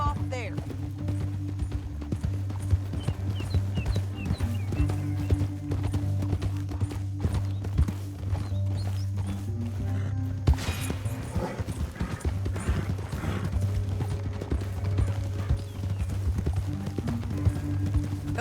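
Horse hooves clip-clop in a steady rhythmic trot in the video game Red Dead Redemption 2, heard under a droning musical score with a brief voice partway through.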